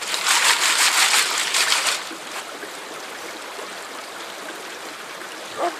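Water runs through a rock washer, a loud rushing splash for about two seconds that then drops to a softer, steady trickling wash, heard close.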